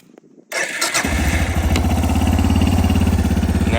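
A Suzuki DR650 motorcycle engine cranks briefly after a quiet pause, catches and settles into a loud, steady, thumping idle, close up.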